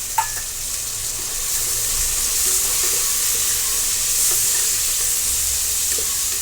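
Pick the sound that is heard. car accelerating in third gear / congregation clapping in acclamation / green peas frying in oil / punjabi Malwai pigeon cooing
green peas frying in oil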